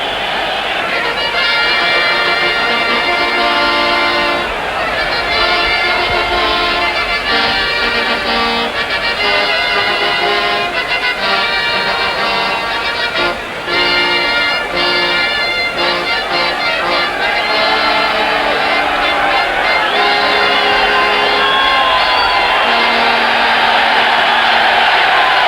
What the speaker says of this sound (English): And now the big cheer goes up.